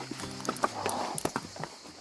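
Hooves of an untied horse clip-clop in a few quick, uneven steps nearby, fairly quiet, as the horse shies from being showered.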